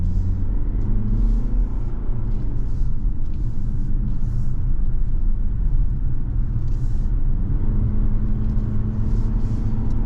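Cabin of a 2024 Hyundai Tucson Limited AWD climbing a hill: steady low road rumble and engine hum with a faint rising tone, continuous and close, no talking.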